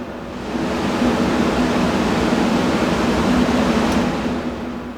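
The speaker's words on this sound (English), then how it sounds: "It's going to gradually speed up as it measures the RPMs and the torque necessary to move airflow." A furnace blower motor drives its wheel in a steady, loud broadband rush of air with a low hum, holding near-constant for about five seconds with no talking.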